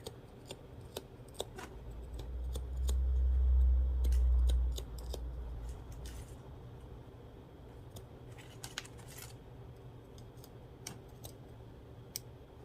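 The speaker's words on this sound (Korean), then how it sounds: "가위로 그냥 일반 가위 큰 걸로 잘라주시면 되고요" Large ordinary scissors cutting through plastic canvas mesh, a run of quiet, crisp snips and clicks spread over several seconds, close by and with no talking, beneath a brief low thump early on.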